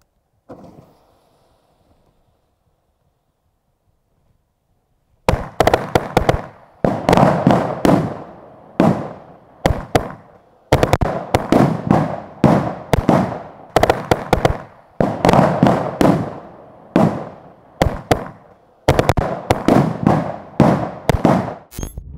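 A long string of firecrackers, a belt of 500 linked petards, goes off after a few seconds of near silence. It fires as a loud, dense, continuous crackle of sharp bangs with brief gaps, close to the listener.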